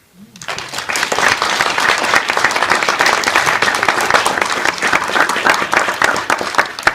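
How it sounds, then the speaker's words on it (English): A large lecture audience applauding steadily, dense clapping that starts abruptly and holds at a loud, even level for several seconds. "let's all just give one more big round of applause"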